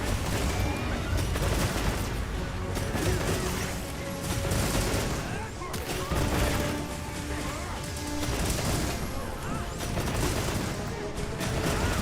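Rapid gunfire from dragon ammo in the Monster Hunter Wilds video game, dense repeated blasts and crashing impacts in a continuous loud barrage, with game effects layered throughout.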